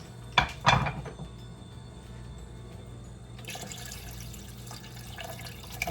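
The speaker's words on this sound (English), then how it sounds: "So I'm just gonna add a little bit more water to this." Water being added from a kitchen tap to a pot of broccoli soup, with a couple of sharp knocks of pot handling at the start followed by a quiet, steady stream of running water.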